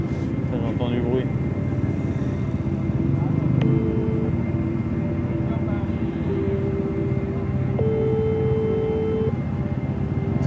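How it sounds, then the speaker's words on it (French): Steady helicopter drone heard from inside the cabin during the Rallye du Maroc 2023, a dense continuous roar filling the whole clip with brief voices and tones over it. "Je suis en hélico, hein?"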